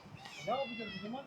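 A cat meows once, a short rising-and-falling cry, with a person speaking softly around it.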